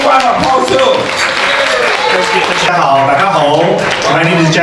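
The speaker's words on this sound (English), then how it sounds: "Let's give Jackie a big round of applause too." A crowd at a celebration banquet for a newly elected official gives loud, sustained applause for a district leader, with voices talking and calling out over the clapping throughout.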